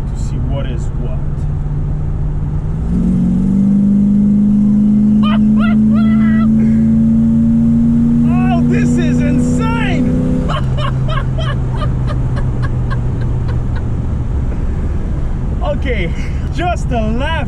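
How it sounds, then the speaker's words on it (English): A 1973 Dodge Charger with a 340 V8 roars as it is floored, the engine note climbing steadily for several seconds before backing off. Wind rushes throughout, and someone speaks over the engine before and after. "After that bridge, I'm gonna floor it to see what is what."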